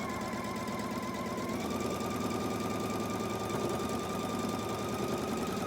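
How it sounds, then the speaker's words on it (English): A sewing machine stitching a scant quarter-inch seam along fabric strips gives off a steady, fast, even mechanical whir with a rapid needle rhythm, close and continuous without a pause. "I'm going to sew a scant 1/4-inch seam allowance right there."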